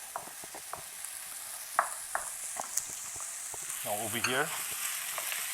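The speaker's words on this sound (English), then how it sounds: "I just want to brown my onions and garlic." Onions and garlic browning in a pan for shepherd's pie, a steady close sizzle and fry with scattered clicks and scrapes of stirring, while a person speaks briefly near the end.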